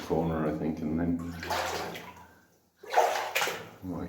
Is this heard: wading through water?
yes